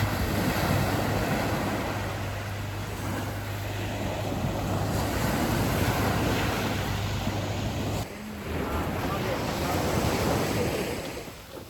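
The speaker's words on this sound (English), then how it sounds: "We were not allowed to swim at the beach because the waves were pretty high." High ocean surf rolling onto a beach on Bantayan Island, a loud continuous wash of breaking waves mixed with wind buffeting the microphone, with no talk.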